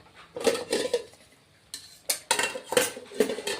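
Green and dried chili paste with spices being stir-fried in a pan for a potato, pointed gourd and paneer curry, bursts of a spatula scraping and clattering against the pan separated by brief pauses.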